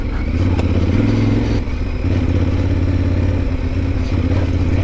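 A Yamaha Ténéré World Raid motorcycle accelerating off road, its engine loud and continuous with a brief dip in revs, rough clatter riding along with the drone.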